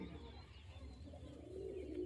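Pigeons kept for sale in a Bengali breeder's loft coo softly over low background murmur, a steady faint warbling that swells slightly toward the end.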